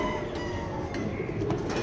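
Racing pigeons coo softly in a loft, low burbling calls over a steady background murmur, brief and unbroken.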